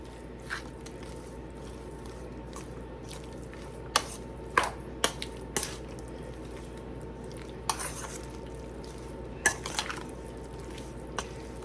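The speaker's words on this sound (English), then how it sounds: "This time I will use the spoon to mix it." A spoon mixing a pork burrito filling with hatch green chili in a bowl, sparse light clinks and taps scattered over a steady background hum, close but soft.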